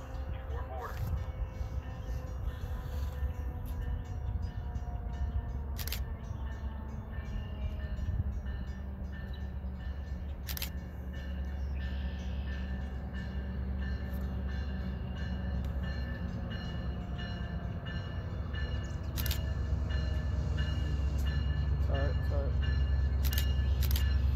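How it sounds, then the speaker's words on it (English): A Metra commuter train rumbles steadily into Antioch station, with low mechanical drone, squealing brake tones and occasional clanks, while an announcement plays over it. "The next outbound Metra train from Chicago is now arriving in your station."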